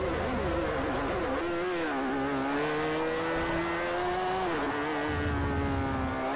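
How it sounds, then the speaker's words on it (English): A rotary-engined race car in Forza Motorsport 4 drones loudly and continuously with a rough, buzzy tone, its pitch rising and falling through gear changes and revs over several seconds, without talking. "It's got that really rough rotary sound."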